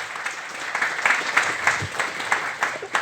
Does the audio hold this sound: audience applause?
yes